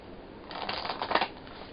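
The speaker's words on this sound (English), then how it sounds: "I'm going to try my best to shuffle and place the cards within the camera shot" Angel Oracle deck cards being shuffled by hand, a soft papery riffling burst building up and fading over about a second, faint and close, with no talk.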